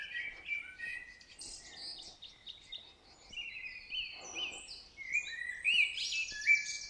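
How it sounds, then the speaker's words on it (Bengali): Small birds chirp and tweet near Lava monastery in a quiet setting, with scattered bright calls that grow busier toward the end, faint and slightly distant. "আর কিছু পাখি ডাকছে"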